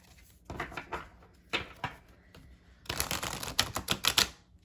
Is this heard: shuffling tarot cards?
yes